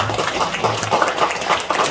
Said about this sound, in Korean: 오늘 환영의 박수 부탁드립니다